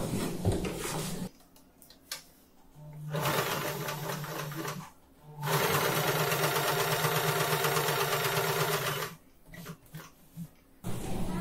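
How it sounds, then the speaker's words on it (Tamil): Sewing machine stitching fabric in a straight line, with a loud steady whirring run in the middle, shorter bursts of stitching before it, and quiet pauses between runs. "அதுக்கப்புறம் இப்படி ஸ்ட்ரெயிட்டா ஸ்டிச் பண்ணி வந்துடும்"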